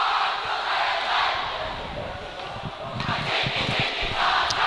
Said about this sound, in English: Half crowd getting something started here.